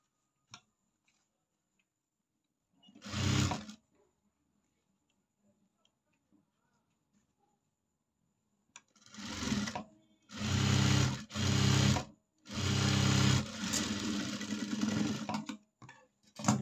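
A sewing machine stitches a blouse in short bursts, one brief run followed by several louder close runs in quick succession, with quiet pauses between.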